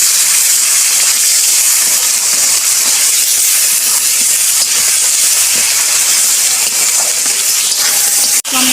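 Chopped tomatoes with salt sizzle in a pan, a loud, even frying hiss that runs unbroken throughout, with a brief clatter near the end.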